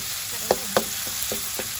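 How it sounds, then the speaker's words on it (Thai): Thai curry paste stir-frying in hot oil in a pan for a stir-fried egg dish with lime leaves, a steady close sizzle broken by a few sharp scraping clicks of a spatula. "นำเครื่องแกงลงไปลงไปผัดก่อนนะครับผม"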